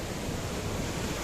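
Naga Falls, a waterfall in the Sikkim hills, gives off a steady, dense, loud roar of rushing water with no break.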